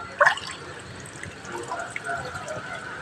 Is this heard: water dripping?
yes